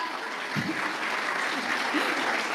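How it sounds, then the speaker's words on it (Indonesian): Audience applause at a speech event in Papua Tengah, a brief, steady spatter of clapping from a crowd with no talk over it. "Tepuk tangan dong, luar biasa."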